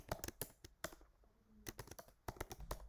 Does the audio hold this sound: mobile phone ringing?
no